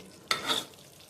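A short burst of sizzling as brinjal is stirred in a hot pan, quickly fading to a soft hiss.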